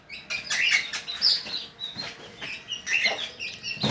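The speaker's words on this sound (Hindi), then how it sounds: "और ये हैं दो मुर्गे," Two young roosters kept in a parrot house cluck and squawk in short, shrill bursts, with some wing flapping and no speech.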